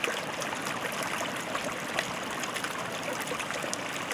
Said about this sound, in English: I got my own little waterfall right here